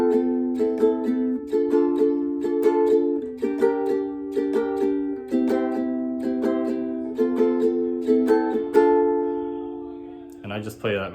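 A ukulele strums the verse chords of a song in a steady repeating pattern, close and clear, ending with a brief muted scrape.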